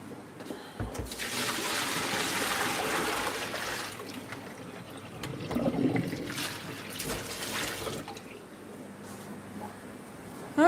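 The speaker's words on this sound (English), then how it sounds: "Let's drain this out real quick." Water drains out of a fish tank in a home fishroom, a steady rushing and gurgling flow that holds for about eight seconds before easing off, with only faint background sounds.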